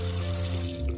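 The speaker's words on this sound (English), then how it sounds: "we have to use our water pump, which we keep on here. It does make a little bit of noise when you turn on the water" A water pump in a 2021 Casita Heritage Deluxe 17-foot travel trailer hums steadily with a low, constant drone as the faucet runs, with water splashing into the sink briefly near the end.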